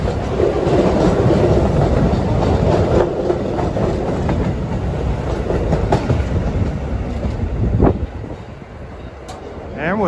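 Out-of-service Staten Island Railway trains pass through a station, a loud steady rumble with rhythmic clickety-clack of wheels over rail joints, easing slightly near the end.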